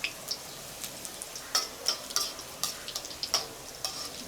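Pikedel Grago, shrimp fritters, fry in oil with soft, intermittent crackles and pops over a quiet bubbling hiss, close by and fairly faint, with no talking.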